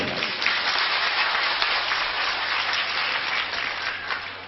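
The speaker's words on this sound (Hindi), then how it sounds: "ताली बजा जोर से एकदम।" A hall audience at a spiritual discourse on Sant Kabir claps loudly together in a dense, sustained burst of applause that fades slightly at the end, with no talk over it.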